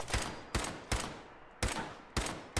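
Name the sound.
gunfire in Fallout 4 video game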